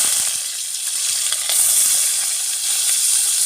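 Onion dropped into hot oil already seasoned with bay leaf, black pepper, clove and cumin, crackling with a bright, continuous hissing sizzle up close that swells slightly partway through.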